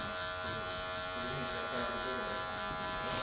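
Electric hair clippers with a half-closed guard buzz steadily while shaving a head, a close, continuous hum with bright harmonics and slight changes in tone as the blade moves through hair.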